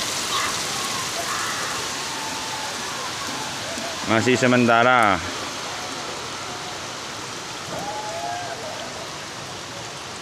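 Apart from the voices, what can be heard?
heavy rain falling during a flood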